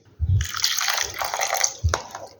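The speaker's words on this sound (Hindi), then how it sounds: "ये देखें जी, जूस सारा छन गया।" Falsa juice drips and splashes through a strainer in a kitchen, wet liquid patter with a few heavier drops, close and clear with no talk.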